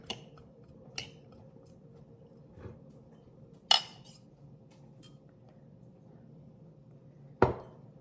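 A knife stirring liquid in a jar of green tomato salsa verde gives a few faint, sharp metallic clinks spaced seconds apart over a low, quiet background.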